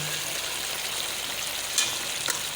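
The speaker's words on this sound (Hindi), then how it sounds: "अब इसको अच्छी तरीके से भून लूँगी।" Gobi chicken potato curry with thick-cut green chilies frying in a pan, a steady close sizzle with faint stirring clicks and no talking.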